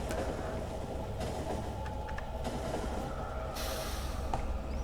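A Factorio train rolls along its rails with a steady low rumble and faint clicks, mid-distance and continuous, with no talk.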